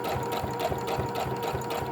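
Sewing machine running a straight stitch while attaching a pocket to a bag, a steady rhythmic mechanical whir and needle thump at an even pace, close and loud.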